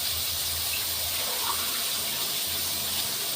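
A cup of water poured into a cooking pan of eggplant vegetables, giving a steady, even rush of water with a soft hissing edge that lasts throughout, close and moderately loud.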